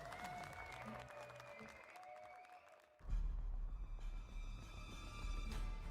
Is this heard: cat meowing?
no